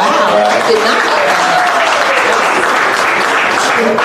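Steady, dense audience applause fills the whole stretch at full strength, with a few faint voices and murmurs mixed in beneath the clapping.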